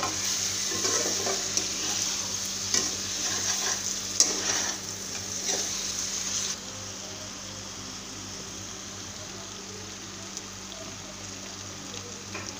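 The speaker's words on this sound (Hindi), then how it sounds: "एकदम हल्के हाथ से मिक्स कर रहे हैं" A spoon gently stirring soft, cooked-down tomato masala in a pan for stuffed bitter gourd, with a steady low sizzle and scraping strokes in the first half before it settles into quieter frying, no talking.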